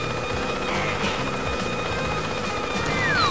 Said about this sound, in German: Hier, der Heli.